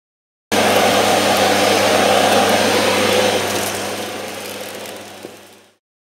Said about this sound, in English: Another important purchase criterion for vacuum cleaners is the noise level.